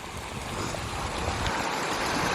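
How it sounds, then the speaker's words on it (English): A small waterfall stream fed by snow runoff on the Pacific Crest Trail gives a brief, steady rushing splash of water, close and continuous, with no talk over it. "I just had to show you this little waterfall stream."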